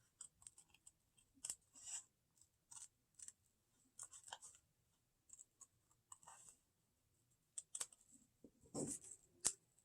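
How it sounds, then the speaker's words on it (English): Scissors snip through paper in Scherenschnitte paper cutting, a quiet, close, irregular series of small crisp clicks and cuts with short pauses between them. "And yes, you're going to move the scissors some."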